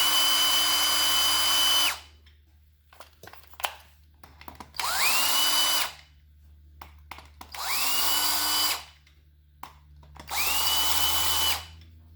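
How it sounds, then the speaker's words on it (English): A cordless power drill spins clutch cover bolts out of a WR250R motorcycle in four separate whirring bursts of about two seconds each. Each burst ends with a falling whine, and there are small clicks and handling sounds in the pauses between them. "And just spin them out with the drill."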